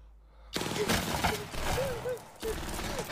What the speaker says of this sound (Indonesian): Pengejar mencoba menembak Usagi